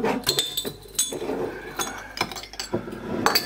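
Half-litre glass bottles of hazelnut milk clink together close by, several sharp bright knocks in an irregular series with faint handling noise between them.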